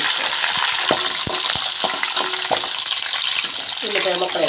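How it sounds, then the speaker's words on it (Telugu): Hot oil sizzles steadily in a pan while onions, chillies and other pieces fry for a prawn and egg curry, with scattered stirring clinks and scrapes over the continuous crackle. "ఆయిల్ వేసుకున్నాక వేసుకుని బాగా వేయించుకోవాలి."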